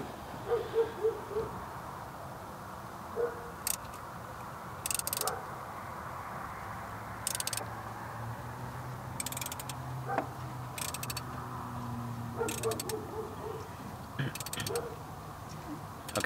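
A ratchet wrench clicks in short bursts as it turns the crankshaft of a Ford Focus SVT engine through one revolution during a timing belt job, the clicks repeating every second or two against a quiet room with faint voices.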